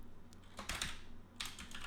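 Quick bursts of typing on a computer keyboard, with fairly quiet clustered keystrokes separated by short pauses and no voices.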